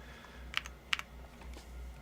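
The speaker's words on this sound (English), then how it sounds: "blazing on the keyboard" Someone types on a computer keyboard during a multiplayer typing game. A few sharp key clicks stand out over a faint low hum, and there is no talking.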